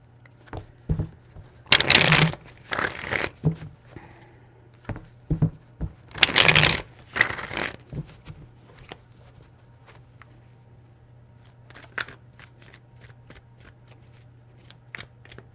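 A deck of tarot cards is riffled and shuffled close by in several quick bursts, with softer handling taps and card slides between them.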